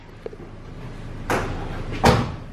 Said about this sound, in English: Shut the door, Tom.